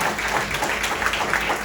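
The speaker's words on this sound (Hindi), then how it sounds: "इतनी तालियां बज रही हैं इनके लिए" Studio audience applauding on a television stage show: dense, steady crowd clapping at moderate loudness fills the short stretch without a break.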